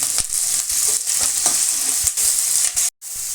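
Onions, green chillies and curry leaves fry in a pan with a loud, steady sizzle. Brief stirring scrapes break in throughout, and the sound drops out for a moment near the end.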